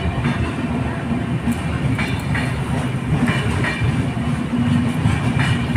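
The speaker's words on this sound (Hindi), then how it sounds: "मस्त ट्रेन जा रही है" A train rolls past on the rails with a loud, continuous rumble and a rhythmic clickety-clack of wheels over track joints. It stays close and steady the whole time, with no speech.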